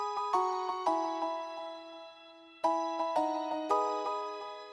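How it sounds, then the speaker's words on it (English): A bell-like synth tone plays a chord progression pitched an octave up, bright chimes struck in sequence and left to ring and fade, close and solo with no voices. "Then I copied the same chords over to this bell sound and pitched it an octave higher"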